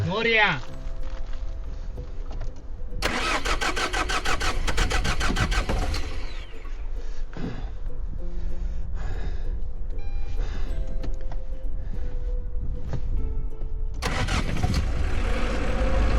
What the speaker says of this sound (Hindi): सेकेंड अटेम्प्ट में ही स्टार्ट हो गई है। धन्यवाद टू टाटा।